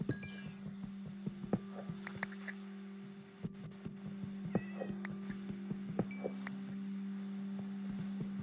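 A cat in Minecraft meows repeatedly in short, bright calls over a steady low hum, with clinking game sounds scattered between them and no one talking.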